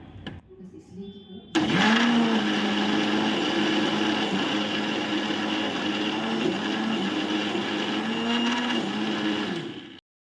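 A mixer grinder grinding coconut starts abruptly and runs loud and steady, its motor whine wavering slightly as it grinds, then cuts off at the end.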